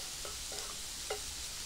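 Onions and garlic go into a paella pan over a campfire, giving a steady, dense sizzle with a few soft scraping stirs, close and continuous throughout.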